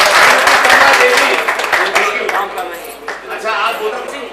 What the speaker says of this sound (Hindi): अरे भाई डबल ताली के साथ स्वागत करिए मौजूदा सभासद कमला देवी।